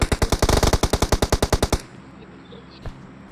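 Rapid automatic gunfire in the mobile game PUBG Mobile, around eighteen evenly spaced loud shots in a quick burst lasting under two seconds, then a quiet pause with one faint distant thud.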